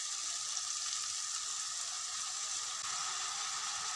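Vegetables for chowmein frying in a pan, giving a soft, even, continuous sizzle that stays faint and unchanging from start to finish, with no voices.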